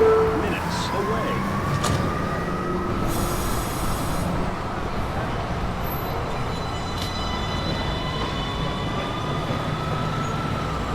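A Manhattan-bound local 1 train on the NYC subway in a simulation game rumbles steadily and loudly throughout, with faint wheel squeal and a brief announcement tone near the start.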